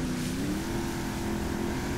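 Speedboat in GTA 5 cruising across open water, a steady droning engine tone that holds level and continuous throughout with no pauses or talk.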